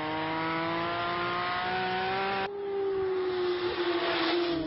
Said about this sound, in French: Écoutez-moi le son de ce moteur,